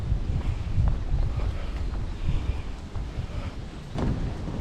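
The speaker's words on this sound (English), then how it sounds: "It's a warm and windy day today." Warm southerly wind gusts across a spring hiking trail in the Indiana Dunes, a steady roaring rumble buffeting the microphone with swelling gusts and no talk.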